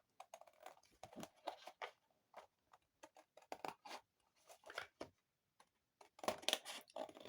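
Scissors snip through pocket letter paper in a run of short, crisp cuts with small gaps between them, close and quiet, with no voice.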